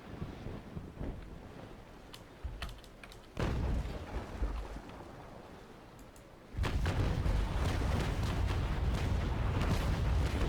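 Cannon fire during a naval battle in Naval Action: a couple of sharp booms early on, then heavy rumbling blasts that swell into a loud, sustained roar of gunfire over a windy, rushing sea background.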